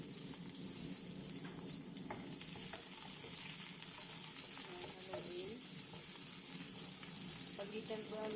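Onion sautéing in oil with sugar in a pan for pancit noodles, a quiet steady sizzle with occasional utensil clinks and faint background noises.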